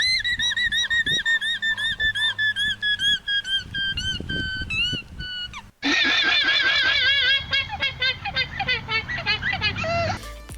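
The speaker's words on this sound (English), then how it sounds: "When a predator comes into your pasture, the llama will call out an alarm" Llama alarm calls on a farm pasture, repeated high, squeaky whistle-like cries in quick bursts, loud and close, with other low noises in the background; the calls grow denser and harsher partway through.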